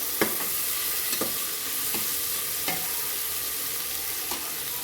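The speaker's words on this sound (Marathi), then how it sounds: "आपल्याला हे एकदा परत आपल्याला हलवून घ्यायचे बघा अशा पद्धतीने" Masale bhat with mint and grated ginger being stirred in a pan, a steady sizzle broken by a few light scraping strokes, close and without talk.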